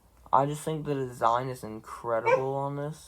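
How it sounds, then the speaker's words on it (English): A dog barks and whimpers in short yelps indoors, mixed in under a person talking steadily close by. "sorry about my dog, it's barking"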